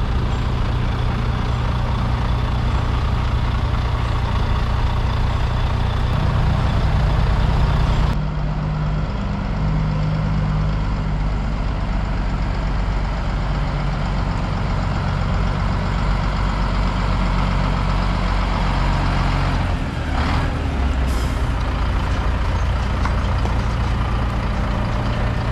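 Large lorries with trailers at the Hull Fair pull-down, a loud, close rumble of heavy diesel engines idling and driving, shifting in pitch partway through, with a brief hiss of air brakes near the end.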